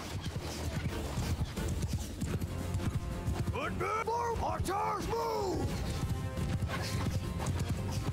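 Horse hooves clop steadily in Mount & Blade II: Bannerlord while a horse whinnies loudly in the middle, set against busy game background noise.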